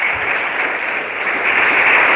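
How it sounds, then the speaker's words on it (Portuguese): A large church congregation applauds steadily and loudly, a dense wash of clapping that swells slightly toward the end. "Vamos aplaudir o Senhor Jesus."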